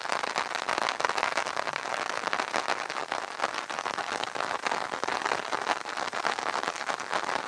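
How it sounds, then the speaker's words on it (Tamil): Heavy rain pours steadily outdoors in Tamil Nadu during a March afternoon storm, a dense, continuous hiss of drops drumming on surfaces at constant loudness with no voices. "இங்கேயும் மழை பெஞ்சிட்டு இருக்கு"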